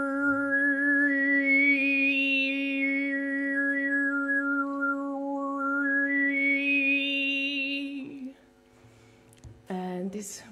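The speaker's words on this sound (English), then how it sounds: "Overtone singing is a voice technique when one person sings 2 notes at the same time." A single sustained sung drone with a bright whistling overtone melody gliding above it, one voice sounding two pitches at once through overtone singing, loud and close, ending with a short voiced note.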